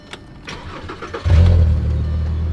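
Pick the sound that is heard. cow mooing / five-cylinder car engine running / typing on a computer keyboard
five-cylinder car engine running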